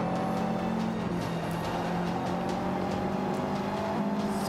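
Race car engine in the Forza Motorsport 5 racing game on Xbox One, a steady sustained drone at high revs with other cars around it, loud and continuous with no talk.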